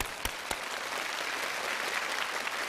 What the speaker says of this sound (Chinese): 再次把掌声送给三位